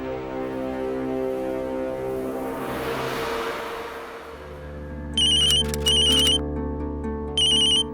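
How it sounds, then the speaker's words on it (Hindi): An electronic phone ringtone chimes in repeated bursts over a steady tonal background hum, loud and close, with no talking. "तुम्हारा फोन आ रहा है"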